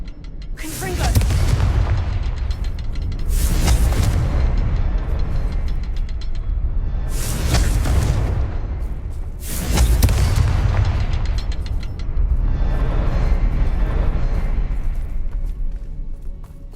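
Confringo explosive spell cast in Hogwarts Legacy: a series of loud, booming blasts, about four to five bursts spaced a few seconds apart over a rumbling background, each with a sharp onset and decaying roar.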